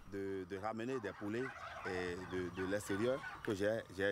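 Chickens on a farm at the Songhai centre in Africa cluck and call repeatedly at close range in quick, overlapping bursts.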